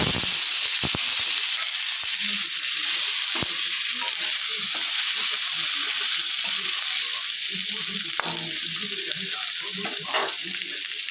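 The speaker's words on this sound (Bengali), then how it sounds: "জিরে দিয়ে দিলাম, কিছুটা পেঁয়াজ দিয়ে দিলাম।" Cumin and onion fry in hot oil with a constant, bright sizzle, dotted with small pops and the occasional clink of a utensil, close and steady throughout.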